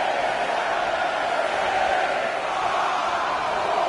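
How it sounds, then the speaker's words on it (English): A wrestling arena crowd in the video game WWE 2K19 roars in a dense, steady wash of cheering that stays loud and even throughout, with no distinct chant beats standing out and no talk over it. "Listen to this crowd count the next one in."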